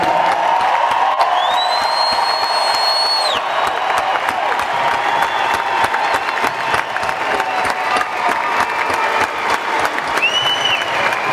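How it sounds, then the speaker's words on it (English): A large concert crowd at a country music jam gives the military a rousing, continuous round of applause, dense and loud throughout, with whistles and cheers rising above the clapping. "could we get a rousing round of applause for our military tonight?"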